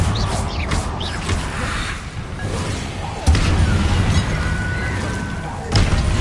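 Confringo blasting spell explosions in Hogwarts Legacy: two heavy, booming blasts a few seconds apart, each a sudden loud thump with a crashing tail, set over a steady busy game background with some voices.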